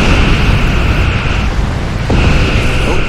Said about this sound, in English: I fired the torpedoes there before his shields actually dropped